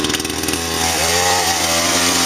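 A BlueMax chainsaw engine catches after a pull-start with the choke pushed in, sputtering briefly then settling into a loud, steady close-up run.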